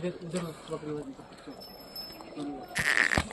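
Goats bleat in short calls amid a noisy outdoor crowd at a livestock market, with a louder, sharper bleat near the end.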